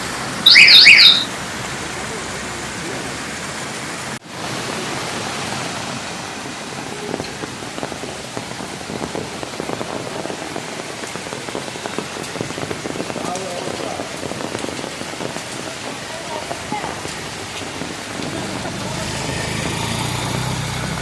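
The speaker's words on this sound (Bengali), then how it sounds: "তীব্র গতিতে পাহাড় থেকে জল নিচে নিচের দিকে নেমে আসছে" Water rushing at speed down a hillside beside a Hanuman temple in Malbazar makes a loud, steady roar of splashing flow throughout, with a brief beep near the start.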